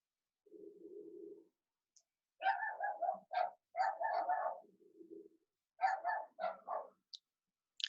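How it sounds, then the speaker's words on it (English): Several dogs bark in short bursts and clustered volleys at moderate distance in a quiet room, with pauses between the groups of barks. "Sorry if you can hear my dogs."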